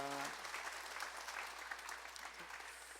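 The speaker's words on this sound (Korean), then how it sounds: "환영의 박수로 축하하겠습니다" A church congregation at a Sunday service gives steady welcoming applause, an even wash of many hands clapping at moderate distance for the whole stretch, tapering slightly at the end.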